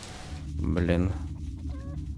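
Chickens cluck in the Mr. Prepper video game as a short burst of close fowl calls, mixed with a voice speaking over them.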